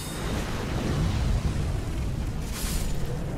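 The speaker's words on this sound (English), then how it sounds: "I like how these guys didn't notice all the explosions happening in the background." Explosions in the Dark Souls 3 video game rumble as low, booming bursts in the background, rolling continuously at moderate volume with a brighter burst partway through.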